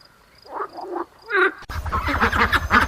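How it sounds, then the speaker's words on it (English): A frog croaks, starting with a few short, soft calls and then breaking into a loud, rapid run of throaty croaks close by. "frog."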